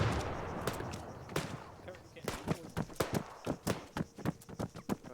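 Gunfire in the video game Arma 3 during a squad firefight, with sharp cracking shots in an irregular rapid series, some close and loud, over a noisy background with players talking.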